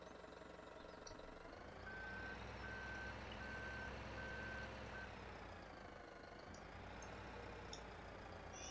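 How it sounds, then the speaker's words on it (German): A Manitou telehandler in Farming Simulator 17 drones steadily with its engine while a run of five evenly spaced reversing beeps sounds, fairly quiet and without talk. "Schmeißen wir den Motor an."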